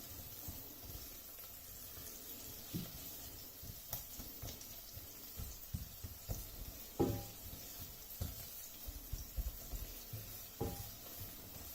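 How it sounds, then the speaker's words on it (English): Onions and garlic sauté in olive oil in a pan with a soft, steady sizzle, faint and close. Occasional stirring scrapes and light clinks sound over it, and no one talks. "I'm going to get my onions and garlic into the pan. And saute off this for a couple of minutes."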